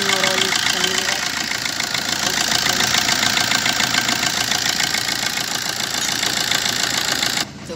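Maruti Swift diesel engine running steadily after a timing chain repair, a close, continuous clattering idle with a voice speaking over it.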